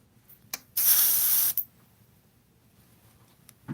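Airbrush spraying paint onto a canvas, one steady hiss of about three quarters of a second, loud and close, framed by short puffs and clicks before and after.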